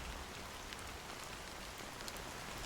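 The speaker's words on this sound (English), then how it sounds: "How long has this rain been going on for?" Rain falling in the video game Honkai: Star Rail, a faint, even hiss of steady downpour with soft scattered drop taps, continuous and without talking.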